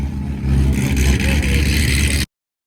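Close, loud car engine revving hard at a concours-style sports car show, a throaty mid-range roar swelling over about two seconds before cutting off abruptly.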